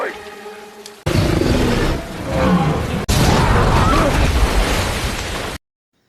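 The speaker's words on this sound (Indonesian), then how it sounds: "Sampai akhirnya bom meledak" A bomb explodes in a film scene about a deadly crocodile attack at the edge of a swamp, a sudden loud roaring blast that cuts in abruptly after quieter sound and rumbles on for several seconds amid further bursts.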